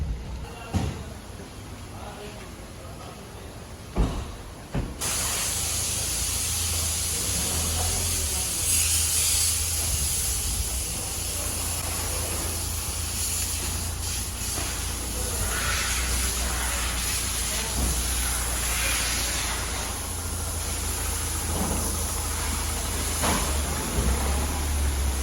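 A water spray hisses steadily against a Mahindra Thar Roxx at a service-center wash, a continuous loud rush after a few early knocks, with faint voices in the background.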